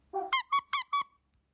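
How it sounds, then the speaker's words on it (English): Squeaky dog toy giving one short low squeeze followed by four quick, bright squeaks in a steady rhythm, close and isolated against silence. "This dog toy, which sounds like this on its own"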